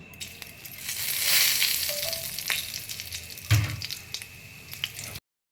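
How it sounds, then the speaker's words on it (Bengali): Fennel seeds sizzle in hot oil with a drop of ghee, a close, steady crackling hiss swelling then easing, with a brief clunk midway and sudden stop near the end, no speech. "এবারে আমি ফোড়নে দিচ্ছি মৌরি।"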